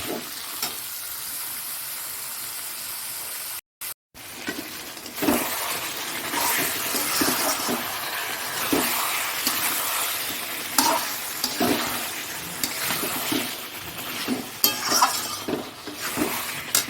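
Potatoes and eggs frying in an oiled pan, a steady sizzle broken by repeated scraping stirs and occasional clinks of a utensil against the pan, close and fairly loud throughout.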